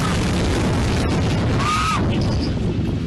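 A loud, sustained roaring blast from the Beirut ammonium nitrate explosion fills the whole moment, dense and distorted, with no voices audible.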